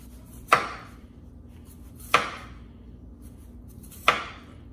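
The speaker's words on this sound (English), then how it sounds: "I'm going to cut them into thin slices like this" A knife cuts through potatoes into thin slices, three sharp separate chops on a cutting board, close and clear with no talking.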